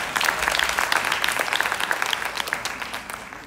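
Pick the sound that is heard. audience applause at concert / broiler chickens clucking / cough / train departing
audience applause at concert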